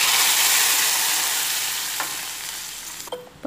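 Onions and curry leaves sizzle and spatter loudly in hot oil as a tempering for sambar, a steady close frying hiss that fades slightly with a few clinks and stirs near the end.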